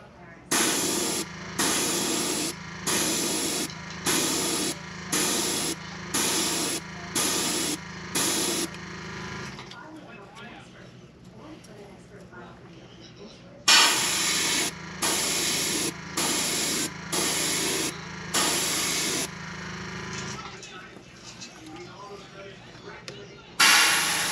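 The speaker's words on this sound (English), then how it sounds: "Now we'll spray the bottom here." Short bursts of spray paint hissing in a regular rhythm onto a fishing lure, several quick pulses in a row, a pause, then another series of sprays.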